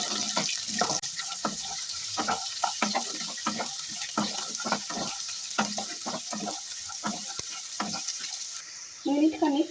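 Chopped onion frying in a pan while poha is made, a continuous sizzle broken up by many quick scraping strokes of a spoon, close by, with a brief louder clatter near the end.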